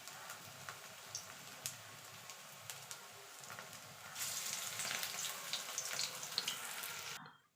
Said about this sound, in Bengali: নিয়ে বাকি বড়াগুলো আমি এইভাবে ভেজে নেব